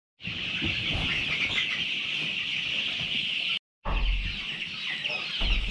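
Chickens clucking steadily in a dim coop at a Devon home, a dense continuous flock chatter close by, with a brief silent break near the end before the clucking resumes.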